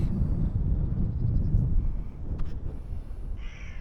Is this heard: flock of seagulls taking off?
yes